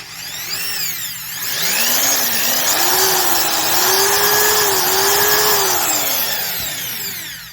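Milwaukee AEG anti-vibration two-speed hammer drill running close and loud with no load, its motor whine rising at start-up, holding steady for several seconds, then winding down.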